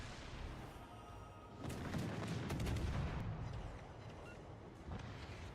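Deep, rumbling naval booms and artillery-like blasts roll through the World of Warships battle as torpedoes are dropped, swelling into a heavier, louder stretch midway before settling back into a steady low din.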